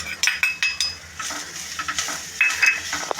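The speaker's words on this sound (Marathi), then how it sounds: "आणि मंद आचेवर ढवळायचं आहे" Grated coconut stirred in a pan over low heat: a utensil scrapes and clinks against the metal in quick, irregular strokes over a faint sizzle, close and fairly clear.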